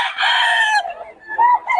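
A rooster crows loudly and close by among other chickens, with one long harmonic call followed by shorter clucking notes in a brief burst.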